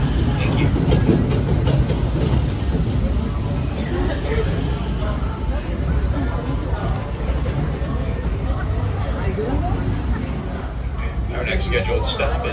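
An amusement park railroad train at Disneyland rumbles and clatters steadily along the track, with a continuous low roar and faint crowd babble in the background.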